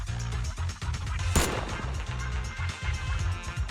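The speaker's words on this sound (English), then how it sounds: "The sound of gunfire rings out and a barrage of bullets fly towards the two of them" Gunfire from a bullet barrage in Zenless Zone Zero: a steady rattle of rapid shots with one sharp, bright crash near the middle, continuous and close throughout.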